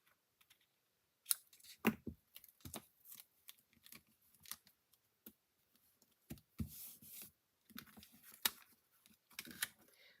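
Scissors snip through paper for an autumn fold craft, with scattered quiet cuts and rustles coming in uneven bursts and pauses, close and soft, with no talking.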